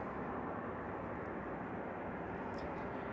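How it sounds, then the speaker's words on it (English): A Cathay Pacific Airbus A350-900 airliner bound for Hong Kong, heard as a steady broadband jet roar that stays constant and fairly distant throughout, with no talk over it. "the Airbus A350 Cathay Pacific is going to Hong Kong"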